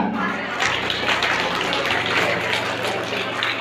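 A school audience at a high school quiz contest claps for a teacher. The dense, even applause continues throughout, with a low hum running underneath.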